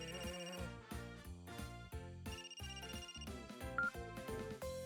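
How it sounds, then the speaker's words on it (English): Video game telephone ringtone, a melodic electronic phone ring playing in repeated short phrases, clear and fairly loud, with no talking over it. "Phone's ringing."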